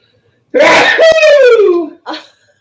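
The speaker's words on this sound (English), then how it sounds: "I have to sneeze." A single loud sneeze erupts up close with a drawn-out, voiced wail, followed by a short breathy exhale.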